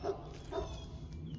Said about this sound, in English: I hear dogs. What dog is barking?